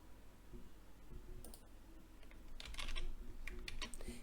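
Someone types on a computer keyboard in quiet, irregular bursts of soft clicks and taps, a little louder toward the end, with no talking.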